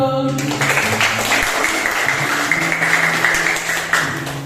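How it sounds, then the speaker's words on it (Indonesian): A classroom full of students clapping together, a dense, steady wash of applause at moderate loudness lasting throughout, with a voice briefly heard at the start. "Oke, tepuk tangan dulu."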